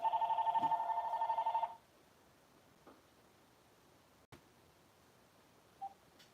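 A telephone rings with a bright, pulsing electronic tone for under two seconds, then falls into near silence broken only by a few faint clicks.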